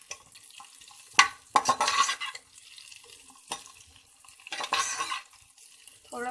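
Onion and bell pepper being sautéed in hot oil in a kadai, with bursts of stirring and scraping against the pan over a soft background sizzle, coming in two clear rounds separated by quieter gaps.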